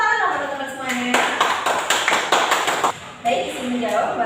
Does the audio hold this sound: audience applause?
yes